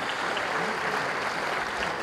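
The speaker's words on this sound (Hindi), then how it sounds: "एक बार जोरदार तालियों के साथ मैं चाहूँगा एक बार स्वागत होना चाहिए" Steady, dense applause from an auditorium crowd at an album launch fills the whole stretch, even and sustained without pauses.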